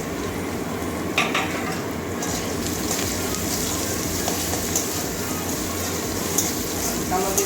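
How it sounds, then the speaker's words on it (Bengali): Onion sizzles steadily in hot oil with nigella seeds and garlic, a dense, even frying hiss with occasional stirring clinks, while a person talks over it. "পেঁয়াজটা হালকা লাল লাল করে ভেজে নেবো"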